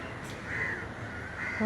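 Crows caw near a lake, giving a couple of short harsh calls over a steady outdoor background.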